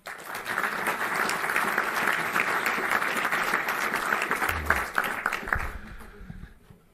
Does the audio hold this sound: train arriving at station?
no